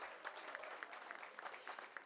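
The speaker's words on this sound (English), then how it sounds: "Please, let's give them a round of applause." Audience applause at a Windhoek sponsor reveal for the MTN & MN Top 20, a brief, steady burst of many hands clapping, fairly distant and even in loudness.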